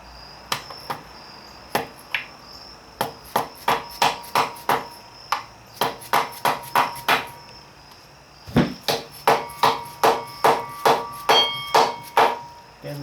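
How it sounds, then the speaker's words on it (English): Soft-blow hammer taps on transmission parts during a rebuild and reassembly, sharp close strikes in quick irregular bursts with short pauses, some ringing faintly, no talking. "And this is a soft blow hammer,"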